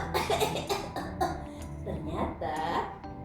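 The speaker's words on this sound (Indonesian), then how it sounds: "Oru jadi batuk." A character in a children's radio drama coughs after the forest was burned, a quick run of several harsh, close coughs with throat-clearing, loud and alone.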